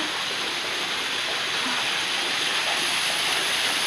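Loud, constant rush of falling water at Miami Zoo, a dense broadband roar like a nearby waterfall, steady from start to finish.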